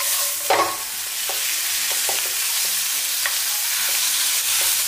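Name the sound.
stir-frying eggplant and green peppers in a wok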